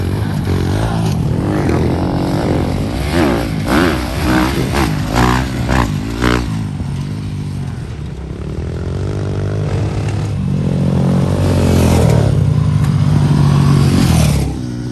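Dirt motorcycles ride a jump training track, engines loud and near with rising and falling revs and bursts of acceleration running continuously, no speech.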